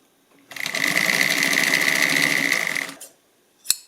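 An antique Singer 319W sewing machine runs through a couple of layers of black ripstop fabric in one smooth burst of about two and a half seconds, then stops, followed by a single sharp click.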